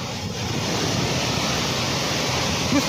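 Kanchan waterfall in full monsoon flow near Hatvis village, a steady loud broadband roar of gushing water with a low rumble, continuous and unbroken throughout with no voices.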